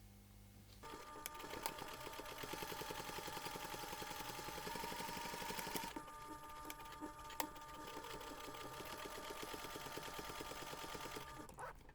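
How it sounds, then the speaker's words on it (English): A sewing machine top stitches along both sides of a fabric jewellery pouch, its needle hammering in a steady fast whir close by, with a brief pause midway before the motor resumes. "you're going to take this to the machine and we're going to top stitch along both sides"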